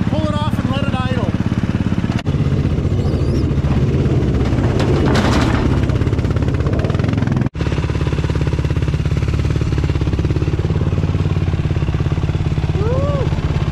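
A new Yamaha 450 motorcycle engine idles steadily and loudly throughout, a continuous close rumble with brief dips in level and people talking over it near the start.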